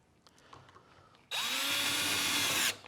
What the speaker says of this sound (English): So now I drilled my hole.